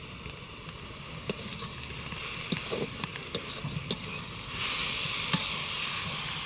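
Village breakfast cooks in a pan over a clay stove, giving a steady close sizzling hiss with scattered crackles and pops and a louder burst of frying near the end.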